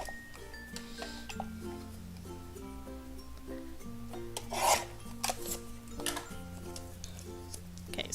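Card piece being trimmed for a shaker card, quiet rasping, rubbing cuts and light ticks close by, with no talking over a soft background.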